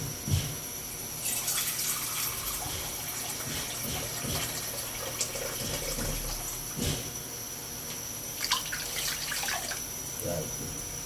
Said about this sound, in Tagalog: Bakulo tayo ng tubig.